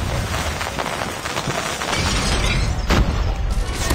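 Loud, dense blasts and shattering crashes from a COD Mobile match fill the whole stretch, with a heavy boom near the three-second mark standing out from the constant roar.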